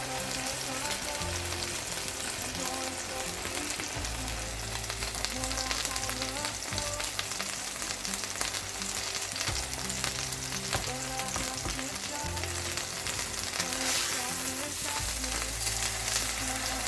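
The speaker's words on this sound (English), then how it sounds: "While frying, add 4 crushed garlic cloves and 3 sprigs of rosemary to the pan" Beef steak frying in a pan with crushed garlic cloves and rosemary sprigs, a close, continuous sizzle and crackle of hot fat with occasional stirring, while a music track plays along at moderate level.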